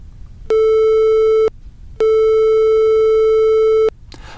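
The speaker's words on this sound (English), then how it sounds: "Let's listen to the sine wave first, and we have only the fundamental at 440 Hertz." A steady 440 Hz sine wave tone with no harmonics sounds twice, first for about a second, then for nearly two seconds, loud and alone with silence between.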